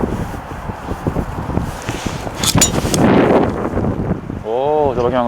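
Strong wind gusting across an outdoor golf course, a steady broadband roar buffeting the microphone and swelling midway, with people talking throughout.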